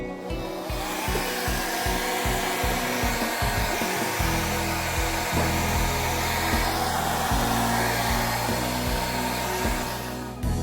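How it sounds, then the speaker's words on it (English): A hair dryer blows continuously up close, a loud steady whir whose pitch shifts a couple of times as it moves. "we're going to take the blow dryer and begin to dry it"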